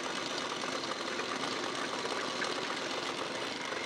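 A sewing machine stitches the eye strip onto a blouse, giving a loud, continuous, even whir with no pauses.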